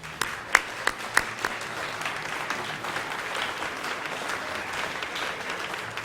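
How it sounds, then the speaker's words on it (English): Audience applause at a high school mock jury trial event, opening with a few sharp individual claps and then settling into steady, moderately distant clapping throughout. "So once again, I applaud you."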